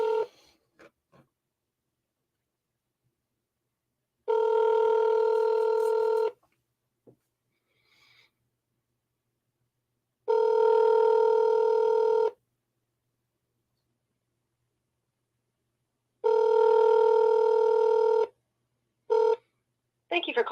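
Outgoing telephone ringback on a cold call to a training business, three long two-second tone bursts separated by silent gaps, followed by two short beeps near the end, clear and fairly loud.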